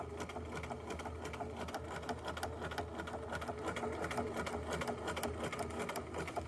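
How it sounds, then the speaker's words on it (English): A sewing machine stitches a buttonhole automatically, its steady rapid needle rhythm running without pause at close range throughout. "So it's going to sew backwards along parallel to the line that I already sewed, and then it's going to sew the top now."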